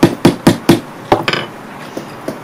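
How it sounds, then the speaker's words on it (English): A hammer bashing metal in a metal workshop: four sharp, loud blows in quick, even succession, then a pause and a few lighter, scattered strikes fading out. "I'll bash it the other way."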